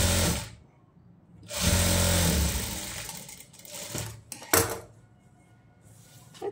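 Sewing machine stitching a silk skirt and blouse, several short bursts of fast mechanical whirring with quiet gaps and light handling clicks between runs.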